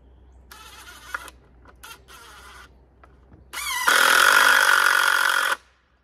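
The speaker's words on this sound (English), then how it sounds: "Put a couple more screws in the top side." A power tool drives screws into a homestead surveillance camera mount, first in a few short, quiet whirring bursts, then in one loud, sustained high-pitched run that stops abruptly, with no voices.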